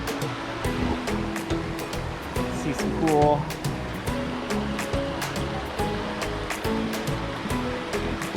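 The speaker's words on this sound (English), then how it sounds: "and there's running water." Running water in a small stream beside the Temple Fork Sawmill hiking trail gurgles and rushes steadily up close, with someone talking over it.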